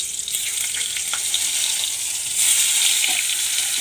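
Potatoes fry in a pan of hot oil with a steady, close sizzle and crackle that swells slightly midway, with no talk over it.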